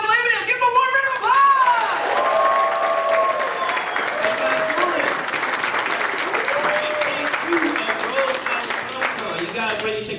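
Convention audience at a Gotham cast panel applauds and cheers to welcome the moderator to the stage, a dense sustained wash of clapping with whoops, while an amplified voice speaks over it.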